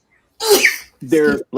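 One sharp sneeze bursts out during a sports discussion panel, followed at once by brief voiced sounds from a nearby person.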